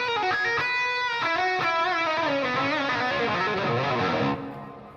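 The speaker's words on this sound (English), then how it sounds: "I've got an Ibanez Tube Screamer." Electric guitar driven through an old Ibanez Tube Screamer TS9 overdrive pedal: a few quick picked notes, then a sustained, gritty chord that rings out and fades at the end, loud and close.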